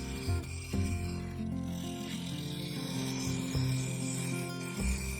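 A bowl gouge making a push cut and then shear scraping on a segmented sapele, ash and oak vase spinning on a wood lathe, a continuous close rasping hum with the motor's steady tone underneath.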